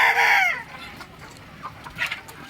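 Backyard chickens kept in a hot shed cooled by stand and ceiling fans: a loud drawn-out crowing call opens, then scattered short clucks follow at closer range, no one speaking.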